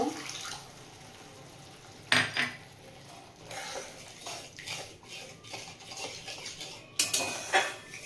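Water poured into a pan of curd eggplant, the yogurt bowl rinsed and emptied in, with splashing bursts and clinks of utensils against the cookware, moderately close.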